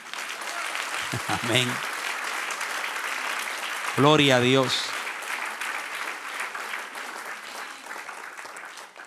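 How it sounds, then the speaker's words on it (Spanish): A church congregation applauds steadily throughout, a dense wash of clapping, while a voice briefly calls out over it twice. "Dale un aplauso al que reina."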